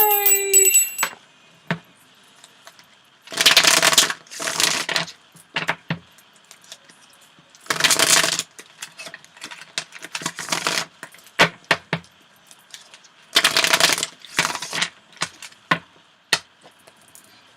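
A deck of cards shuffled by hand in several separate bursts of riffling, near and fairly loud, with quiet handling clicks between them and no talk.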